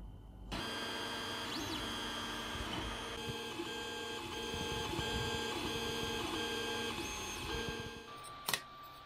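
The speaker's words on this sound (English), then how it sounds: "create some of these stick blocks using the 3D printer" 3D printer printing plastic stick blocks, a steady mechanical whir with faint rhythmic stepper-motor tones and short motion pulses, quiet and continuous, ending with a brief click.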